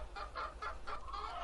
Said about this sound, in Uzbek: Mana bu ikkita jo'ja.